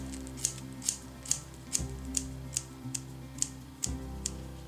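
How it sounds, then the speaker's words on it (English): Scissors snip through hair while cutting bangs, a soft run of about ten crisp clicks at an even pace, close and quiet, with no voice. "So we're gonna cut into the hair."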